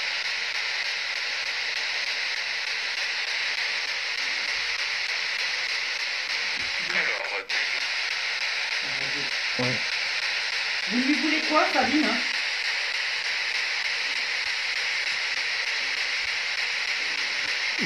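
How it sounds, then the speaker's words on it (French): A spirit box sweeps through radio stations and gives off constant hissing static for the whole stretch. Faint broken voice fragments come and go midway, and there is a sharp click. "Alors, ce bruit, c'est la spirit box."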